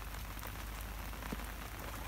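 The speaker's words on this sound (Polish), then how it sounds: "Na razie deszcz nie odpuszcza." Continuous autumn rainfall hisses evenly nearby over marshy ground, with occasional louder droplets splashing against a surface.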